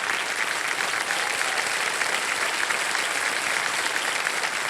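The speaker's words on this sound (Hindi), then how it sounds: "कृष्णा जी के लिए जोरदार ताली बज जाए।" Studio audience at the KBC quiz show breaks into loud, sustained applause, an even wall of many hands clapping without pause throughout.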